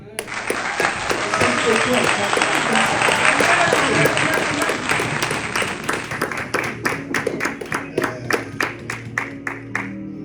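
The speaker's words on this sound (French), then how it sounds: "On peut acclamer la parole de Dieu" A church congregation applauding, dense loud clapping that thins into scattered individual claps toward the end, with voices mixed in.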